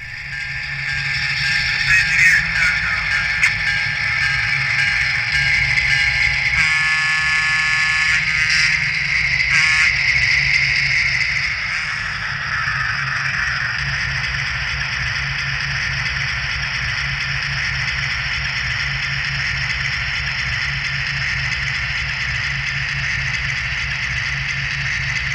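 A Paragon3 N scale EMD NW2/SW7 switcher locomotive model plays a steady diesel idle with electronic horn blasts in the first half, then settles into a continuous engine drone, alone and close.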